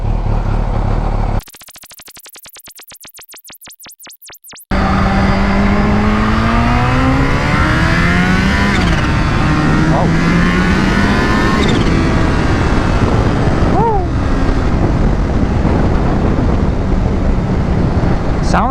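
An H2 motorcycle engine revs hard and accelerates at night, a loud, continuous rising and falling engine whine with gear shifts, close, after a brief burst of harsh electronic noise at the start.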